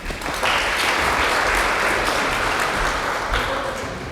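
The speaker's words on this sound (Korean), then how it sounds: "수상하신 교직원들께 박수 부탁드립니다." An audience at a Korean university's 86th anniversary ceremony applauds award-winning staff, dense, loud clapping that swells quickly and holds steady before tapering slightly at the end, with no voices.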